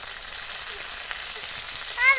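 Cumin, ginger and green chilli paste sizzling in a pan of lightly fried onion for a Bengali singi fish curry with aubergine, a steady soft frying hiss throughout with a brief stir near the end.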